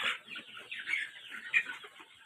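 Brown cock roosters, around 750–800 grams each, clucking and calling close by in short repeated bursts, fairly loud with no talking.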